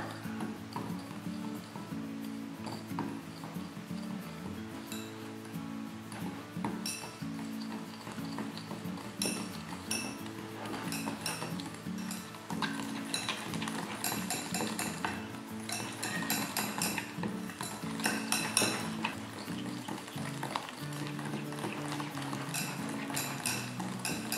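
Butter and powdered sugar are creamed together in a bowl for gulab jamun cookies, giving a steady, busy run of scraping, tapping and clinking of utensil against bowl, continuous throughout with no talking.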